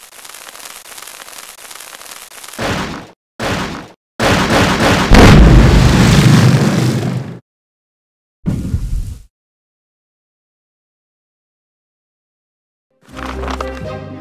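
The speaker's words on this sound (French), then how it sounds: "Dans mes souvenirs, cette explosion était beaucoup plus costaud et beaucoup plus épique." Watermelon bomb blowing up in the Playmobil Pirates video game: bursts of crackling, booming blast noise in several loud chunks separated by silence, with a longer rumbling explosion in the middle and a brief final burst.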